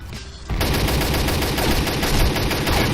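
Rapid automatic fire from an ARX-160 rifle in the online shooter Combat Arms on the Oil Rig map, a sustained loud burst of rattling shots running almost continuously after a brief quieter lead-in.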